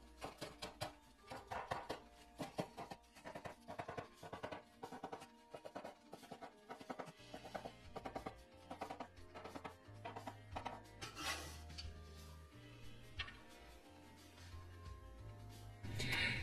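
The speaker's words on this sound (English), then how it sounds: "first we're gonna chop off the white part and then mince it into small pieces." A knife chopping and mincing scallions on a board, rapid close taps in uneven bursts, fairly quiet, later joined by low tonal background music.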